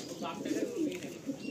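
Pigeons coo softly in short low murmurs, close by, amid faint background chatter at a pigeon market.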